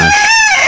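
A rooster crows once, loud and close, a short harsh call in a Thai village setting.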